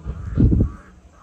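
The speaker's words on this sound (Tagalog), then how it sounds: "Dami uwak. Uwak yan," Brief harsh caws from crows, a quick cluster of loud calls fading out within about a second.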